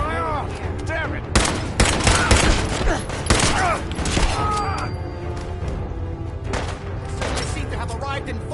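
Dense gunfire in the video game Fallout, continuous loud overlapping shots and impacts with crashing bursts, layered with game sounds and a voice talking over it.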